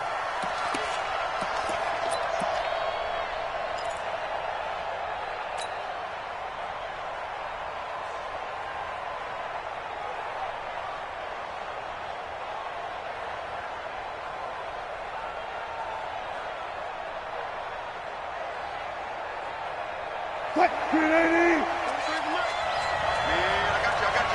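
A raucous stadium crowd roars in an American football video game on PS4, a steady, loud, continuous wash of noise, with a brief sharper burst near the end.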